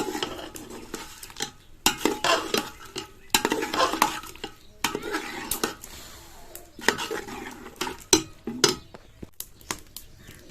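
Chicken being stirred with tomato, onion and green chili in a pan, with irregular scraping, clanking spoon strokes against metal over a faint sizzle, close and fairly loud.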